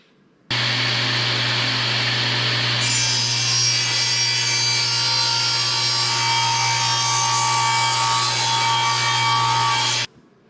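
Delta 36-725 T2 table saw runs at a loud, steady whine, then a blade bites into wood with a brighter cutting tone that holds several seconds before the motor cuts off.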